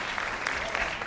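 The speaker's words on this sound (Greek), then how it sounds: "Ένα χειροκρότημα για τον Βαγγέλη και τα καλημερούδια." A studio audience on a Greek evening TV game show breaks into a short burst of clapping, dense and close, lasting about a second.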